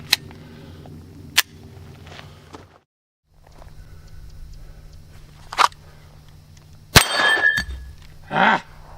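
A Taurus TX22 pistol's slide is racked and cycles in a failure to feed, producing several sharp, close metallic clacks and clicks separated by quiet gaps, with two louder rattling bursts near the end.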